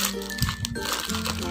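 A clear OPP plastic packaging bag, about 11 x 21 cm and of the kind used for invitation cards, crinkles and crunches close up. The rustling is continuous and loud.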